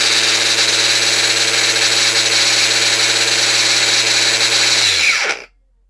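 A Bosch GWX18V-13CN cordless angle grinder whines loudly and steadily at full speed, then its brake pulls the pitch down and it stops within about half a second into silence.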